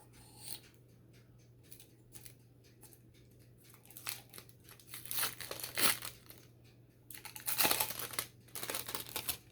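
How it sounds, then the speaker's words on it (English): Sublimation paper being crinkled, scraped and peeled off hot shot glasses with an X-Acto knife, giving sparse ticks early and then louder clustered crackling and tearing bursts against a steady low hum. "I use an X-Acto knife just to get it off of there."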